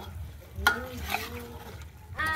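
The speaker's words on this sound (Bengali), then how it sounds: "তেলগুলো দেওয়ার পর এইভাবে ওলট পালট করে নেড়ে চেড়ে খুব ভালো করে আবার একটু কষিয়ে নেব" Goat meat being stirred and fried in oil in a pot, with a steady sizzle, scraping spoon strokes and a couple of sharp metallic clinks; a voice is faintly audible at moments.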